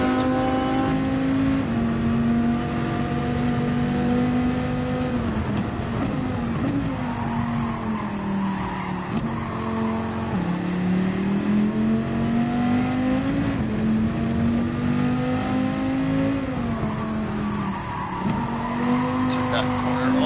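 Dodge Viper engine in Gran Turismo 7, a steady loud race-car drone with rising and falling pitch through gear changes and corners, running continuously throughout with faint tire squeal and a voice talking over it.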